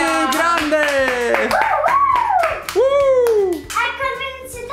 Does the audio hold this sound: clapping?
yes